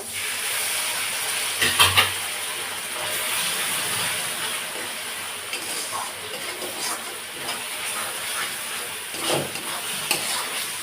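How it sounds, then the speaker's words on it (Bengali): Water poured into meat masala frying in a pan sets off a steady hissing sizzle and steam, with scattered clanks and scrapes of stirring throughout. "অল্প একটু জল দিয়ে দেবো।"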